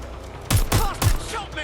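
Rapid bursts of gunfire in the Watch Dogs Legion video game, three loud close shots cracking in quick succession over a background of game ambience.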